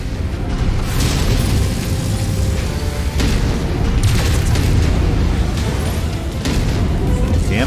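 Heavy weapons fire and booming explosions from battling mechs in MechWarrior 5, a continuous loud rumbling barrage with repeated bursts, and voices talking over the din.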